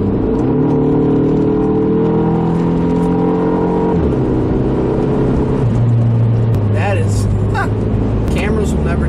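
A 2004 PT Cruiser GT's 4-cylinder engine revs loudly while downshifting, its pitch stepping down and climbing again through gear changes, close and continuous, with a voice briefly audible.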